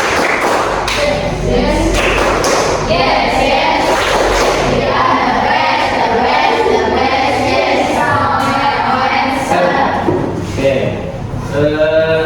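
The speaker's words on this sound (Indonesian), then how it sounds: "Kita tepuk semangat." A school class performs a spirit clap, sending heavy rhythmic thumps and taps through the room while voices chant and shout along loudly and continuously.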